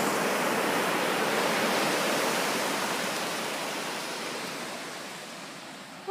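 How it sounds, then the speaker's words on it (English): Surf breaks on a Maui beach in a broad, hissing wash of waves, fairly loud at first and slowly fading as the water recedes, with no voices. "You want to see if we can catch some high surf on camera?"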